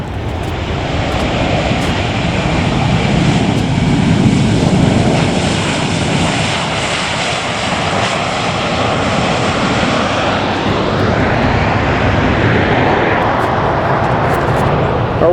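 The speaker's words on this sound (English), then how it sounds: "I hear an airplane." Jet airliner passing near Los Angeles International Airport, a loud, broad engine roar that holds steady and then shifts in pitch as it passes, heard outdoors with some faint background noise.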